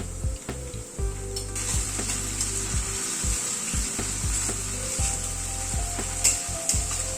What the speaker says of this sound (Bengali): রসুন আর কাঁচা লঙ্কাটা দিয়ে আবার একটুখানি নাড়াচাড়া করে নিচ্ছি